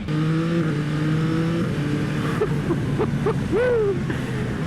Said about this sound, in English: And that exhaust sound, really, that's good. Nice bit of induction roar there.